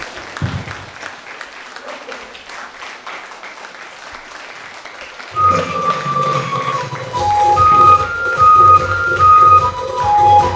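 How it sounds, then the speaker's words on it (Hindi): An audience at a DXN product seminar claps steadily, at first fairly soft, then a loud stretch of music enters and the clapping continues beneath it. "थोड़ा ठोकते रहो ताली, 1 मिनट और ठोको"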